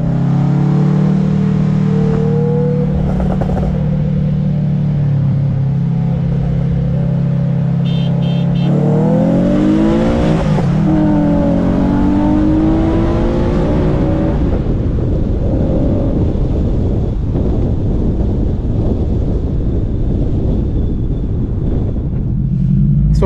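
A tuned Infiniti G37 on 91 octane racing a tuned Subaru WRX STI, a loud engine droning and revving hard through rising gear pulls with heavy wind buffeting over the microphone.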